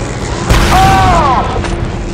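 A grenade detonates in the Star Wars Republic Commando video game as a loud, dull boom with a rumbling tail, while a voice speaks briefly over the blast.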